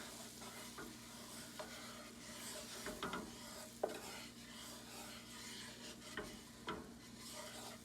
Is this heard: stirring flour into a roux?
yes